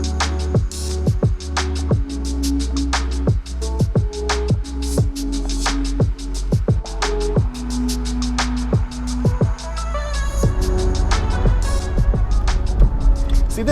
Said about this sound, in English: a relaxed drive, a BMW 8 Series with the top down